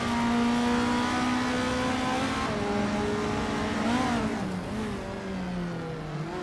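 Race cars accelerating in a racing video game, among them a 1970 Dodge Challenger, a loud sustained engine drone whose pitch rises steadily and then dips as it shifts, with no talking.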